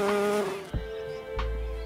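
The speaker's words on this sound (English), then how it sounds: "Carpenter bees make a loud, deep buzzing sound" A large carpenter bee buzzes loudly and close, a deep droning hum that wavers in pitch as it moves, with no talking.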